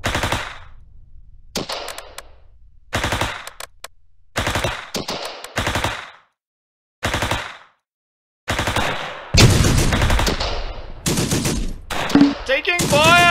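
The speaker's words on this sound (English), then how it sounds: "Taking fire!" Gunfire in the Close Combat video game comes as repeated sharp bursts of automatic fire separated by short silences, growing denser and overlapping toward the end, with brief game voice lines mixed in.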